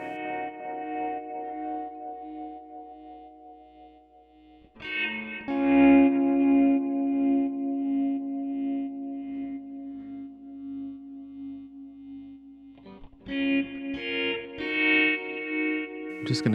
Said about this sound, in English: used this LFO here to automate the volume in order to give it that classic kind of tremolo sound